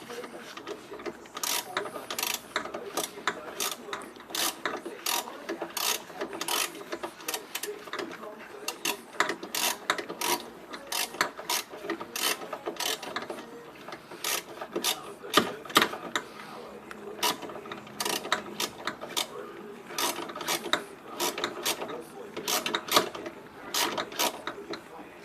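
A ratchet turned by a hand in rubber gloves, while reversing windscreen wipers, gives rapid repeated sharp clicks in bursts throughout, close and fairly loud, with no talking.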